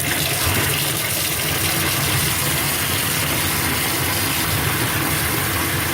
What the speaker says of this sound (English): we're going to turn the water on, yank your earbuds out because it's going to be noisy and obnoxious